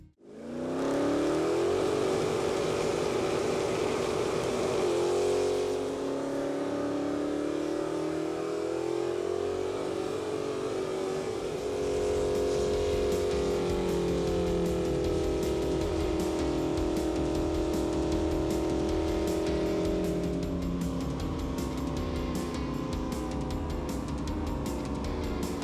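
Mark's Dodge Charger engine revs hard, a loud sustained roar whose pitch climbs, holds and then falls before climbing again, close by and alone with no voices.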